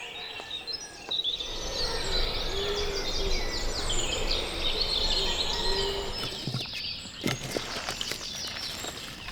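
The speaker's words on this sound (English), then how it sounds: "the birds make up for it." Dense birdsong fills woods at sunrise, many overlapping chirps and calls layered into a continuous bright chorus over a soft background hiss, with no one speaking.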